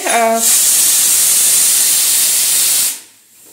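Pressure cooker whistle blows while mutton paya cooks on a home stove, a loud, close, steady hissing blast of steam lasting about two and a half seconds before cutting off, preceded by a brief rising tonal squeal.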